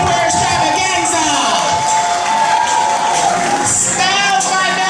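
Audience at a curvaceous nightwear fashion show claps and cheers loudly, with whoops and shouts rising over a dense crowd roar and a voice talking on a microphone.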